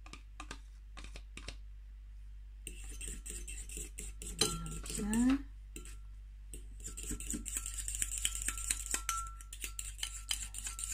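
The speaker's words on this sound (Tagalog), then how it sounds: "basta haluin lang yung itlog sa butter" Egg and butter stirred together in a large mug, with a spoon clinking and scraping against the sides in short bursts, close up and moderately loud over a low steady background hum.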